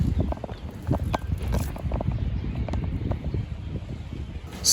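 Gusty outdoor wind buffets the microphone with a steady low rumble and rough bursts throughout, loud and close, with no voices.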